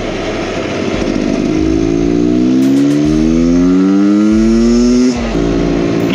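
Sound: Beta X Trainer 300 two-stroke motorcycle revving

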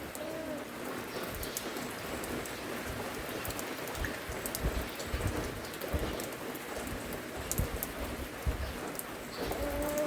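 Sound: morning rain falling

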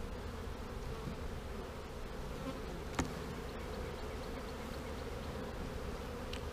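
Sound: honeybees buzzing around an open hive

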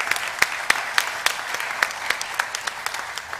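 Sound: audience applause at press conference

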